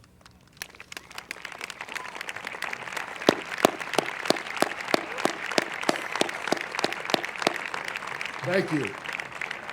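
A graduation audience in a large hall applauds performing artists, a loose crowd of claps building into steady applause with sharp individual claps standing out, and a voice briefly speaking near the end.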